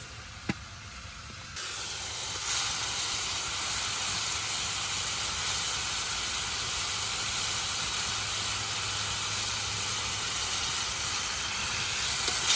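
Marinated snakehead fish slides into spice paste frying in a pan, setting off a loud, steady hiss that holds for several seconds after a brief quieter moment at the start.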